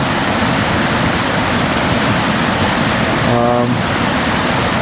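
Water pouring over the lower falls at Tettegouche State Park, Minnesota, in early winter, a continuous broadband rushing roar, steady and fairly loud, with a brief tonal hum near the end.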